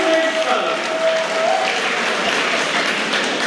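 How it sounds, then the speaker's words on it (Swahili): Applause from an audience for the guest of honour at a secondary school fundraising event for building a fence, a steady dense clatter of many hands that holds evenly throughout, with a faint tone and some voices mixed in. "Makofi mengi kwa mgeni rasmi."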